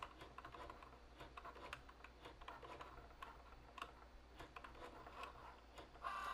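A Cricut Joy cutting machine draws details with a pen, producing faint, quiet ticking and light tapping clicks over a low steady hum, continuous throughout.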